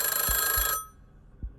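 A telephone rings loudly for under a second as a horror-story sound effect, then cuts off abruptly, leaving near silence with a couple of low thumps.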